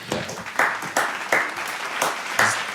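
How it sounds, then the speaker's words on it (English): A small comedy-show audience gives a short burst of applause, with a few individual claps standing out in a loose rhythm, close and moderately loud. "get a round of applause for Inigo?"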